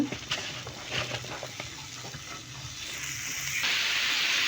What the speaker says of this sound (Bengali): তো কড়াইটা গরম হয়ে গেছে, এখন আমি এটা ভেজে দেব।